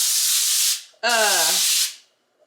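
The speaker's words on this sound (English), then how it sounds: "you're gonna start with this avocado spray" Two bursts of hissing avocado oil cooking spray, the second with a brief squeaky tone at its start, then silence.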